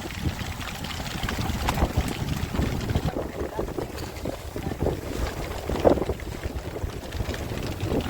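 Steady, rushing stormy wind buffets the microphone outdoors on a rough river in the Sundarbans, with a continuous wash of water and rain hiss, rough and fairly loud throughout.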